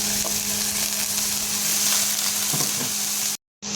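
Onion and garlic sautéing in hot oil in a pan, a loud, steady sizzle with light stirring scrapes, ending in a sudden brief silence.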